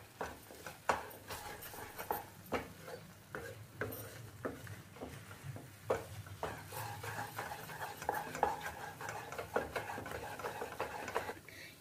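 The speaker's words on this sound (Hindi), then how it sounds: "हम डाल देते हैं बादाम। काजू और इन सब को अच्छे से मिक्स कर लेते हैं।" A spoon scrapes and stirs semolina barfi mixture with almonds and cashews in a pan, quiet rhythmic strokes repeating at a steady pace up close.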